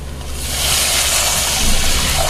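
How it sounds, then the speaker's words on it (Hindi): Water pours into a pot of masala for tehri rice, a broad steady rushing splash that grows and holds for a couple of seconds, loud and close with no talking. "1 वाटी राइस ली हूँ तो उसी के हिसाब से 2 वाटी पानी डालना है इसके अंदर"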